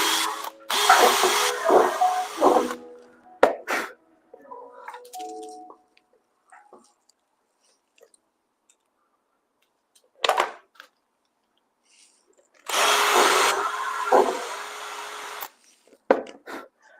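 A power drill bores into a custom vehicle part in two loud bursts of high whirring, separated by quiet stretches with brief clicks and handling knocks.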